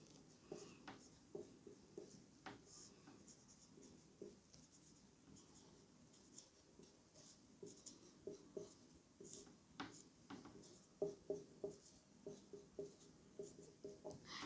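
A pen writes on a board in faint, close scratching strokes with irregular pauses between words, and the taps and scrapes grow busier toward the end.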